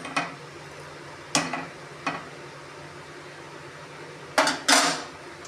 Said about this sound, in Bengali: দুধটা ফুটছে তো একটু নাড়িয়ে দিচ্ছি আমি